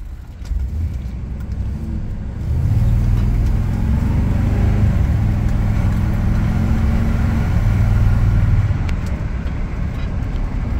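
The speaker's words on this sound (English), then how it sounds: "now we're in two-wheel drive." A 1998 Chevrolet Silverado 4x4 drives in two-wheel drive, its engine and road rumble building into a steady, loud, close drone that holds for several seconds before easing slightly, with no talk.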